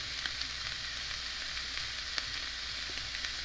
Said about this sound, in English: go ahead and add back in the hamburger meat. And give that a stir.